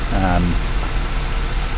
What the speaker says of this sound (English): It seems to idle okay